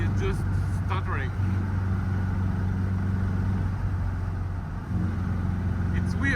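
A Triumph TR4A running rough with no power, its engine droning and stuttering unevenly at full throttle while someone talks over it inside the car.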